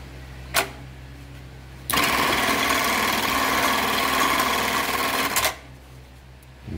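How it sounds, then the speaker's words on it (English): An LK1900BN industrial sewing machine stitches a box-and-cross pattern in Kevlar thread, with a carbide fixed knife trimming the thread. It runs as one steady, loud mechanical whir for about three and a half seconds, with brief clicks before and after. "first pattern is going to be the box and cross. In this Kevlar thread, you'll see that it cuts the thread."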